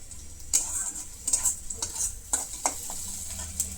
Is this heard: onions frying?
yes